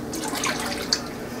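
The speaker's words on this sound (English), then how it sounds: "Let's pour our 2nd cup of milk." A second cup of milk pours into a pan on the stove for a mac and cheese sauce, a brief soft liquid splash and trickle with a small drip-like blip near the end.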